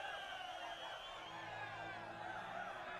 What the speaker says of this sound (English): That's some of the most awkward cheering I've ever seen